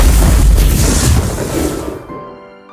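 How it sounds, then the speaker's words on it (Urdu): A loud, deep explosion boom sounding out from the sky, booming heavily for about two seconds before cutting to a thin ringing tail and quiet. "اور پھر اچانک آسمان سے ایک زوردار دھماکے کی آواز آتی ہے۔"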